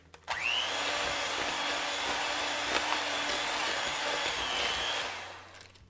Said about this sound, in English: add 2 egg yolks and mix them up one at a time